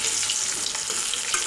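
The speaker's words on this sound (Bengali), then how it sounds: "আর ওই বেরেস্তার তেলে আলু একটু হলুদ লবণ দিয়ে ভেজে নিচ্ছি" Potatoes fry with turmeric and salt in the oil left from frying onions for home-style chicken biryani, a close, steady sizzle and crackle with no voices.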